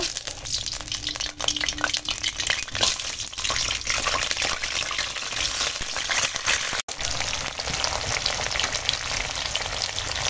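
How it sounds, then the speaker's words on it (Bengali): Cauliflower frying in hot oil in a wok for khichuri, a steady loud sizzle and crackle with occasional stirring scrapes throughout, no talking. "এবার কপিটাকে একটু ভেজে নেব"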